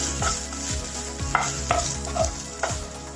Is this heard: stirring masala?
yes